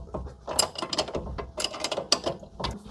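A wrench slowly turning a stud on a 2011 Chevy Malibu lower control arm gives close, uneven ratcheting clicks and metallic creaks in short bursts.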